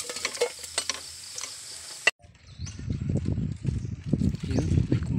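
Tilapia frying in a pan starts with a few metallic clinks of utensils, then a sudden burst of loud, steady sizzling and crackling that carries on to the end.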